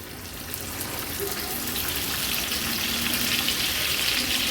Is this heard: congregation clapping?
no